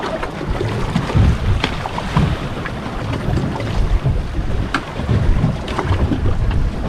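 A fishing boat bounces over rough, choppy water in Tampa Bay during a low pressure system, with irregular hull slaps and splashes, waves, and heavy wind buffeting the microphone close up.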